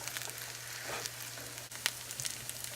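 Keto cheddar bacon pierogies fry over medium heat in a pan, giving a steady, close crackling sizzle with a couple of sharper pops.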